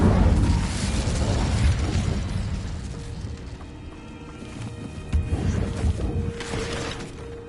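A fire spell goes off in Hogwarts Legacy as a loud whooshing flame burst with explosive rumble, then fainter crackling and further magical bursts in a busy game soundscape, no spoken lines.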